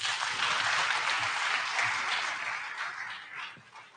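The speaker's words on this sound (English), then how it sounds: "Can our panel please have a round of applause, please?" A conference audience at a blockchain event in a Kampala hotel applauds its panel, a dense wash of clapping that stays steady, then fades away near the end.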